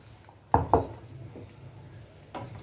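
A spoon clatters twice against a pot as roasted spice is stirred into raw mango chutney, two close, quick knocks followed by quieter scraping and a soft final tap.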